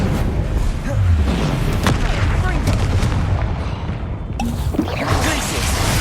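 Spell blasts such as Bombarder and Confringo erupt in Hogwarts Legacy combat against a troll, loud booming impacts and whooshes layered over game music and shouted incantations, repeated hits through the stretch.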